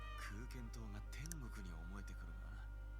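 A cat meows repeatedly in Atelier Ryza 3: Alchemist of the Ends & the Secret Hideout DX on Nintendo Switch, several short rising and falling cries over a steady low game hum, with a voice talking alongside.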